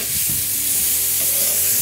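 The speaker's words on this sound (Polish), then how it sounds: "Elegancko się smaży." Fried rice sizzles and fries in a hot pan, a dense steady crackling hiss filling the whole stretch, close and loud, with no talk over it.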